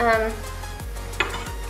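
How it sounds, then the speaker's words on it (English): Rhythmic stirring of vegan zucchini bread batter in a bowl, a utensil scraping and swishing through the wet mixture in steady strokes, close up with a faint background hiss. "we are going to go ahead and mix the other ingredients"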